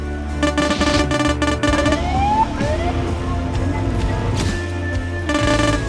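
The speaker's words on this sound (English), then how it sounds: "Have you guys considered a bassier siren sound?" A police-style siren wails in a Roblox town sandbox game, its rising and falling tones cycling steadily and loudly over a busy layer of game noise, with no talking.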